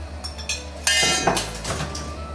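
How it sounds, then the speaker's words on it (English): A starch slurry is mixed with clinking utensil taps, then poured into a hot pan of sweet and sour stir fry, bringing a brief rush of sizzling hiss after a few close metallic knocks. "I'm just going to mix this up a little bit and add it to the pan."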